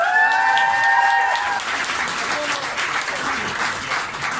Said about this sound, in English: You need to clap for the creative people in iflix.